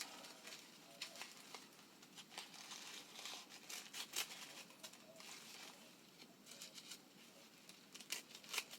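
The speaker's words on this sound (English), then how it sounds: "I'm going to kind of mark that with my scissors. And then see if I can cut through this." Scissors snipping through a stack of tissue paper layers for a paper flower, giving a run of faint, dry crinkling cuts and rustles close by, repeated irregularly with no talking.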